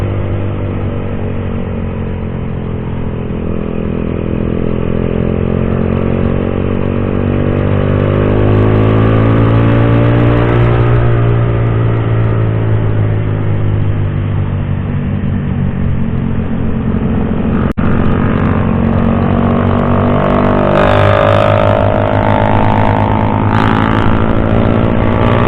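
A group of big motorcycles riding past on a mountain road before dawn, a loud sustained engine roar that swells and revs as they pass close by, with wind noise throughout.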